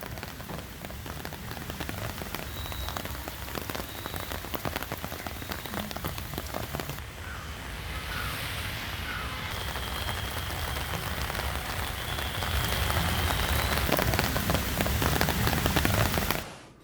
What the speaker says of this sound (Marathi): पुणे शहरासह तिथल्या उपनगरात सुद्धा अनेक ठिकाणी जोरदार पाऊस झालेला आहे